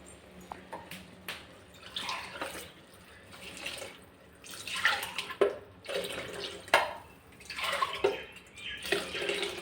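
Coconut milk pours into rice in a pot for mushroom pulao, giving quiet splashing and trickling bursts that grow fuller and more frequent in the second half, with no talking.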